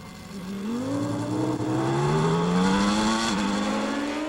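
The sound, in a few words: Formula 1 race cars, 1993 French Grand Prix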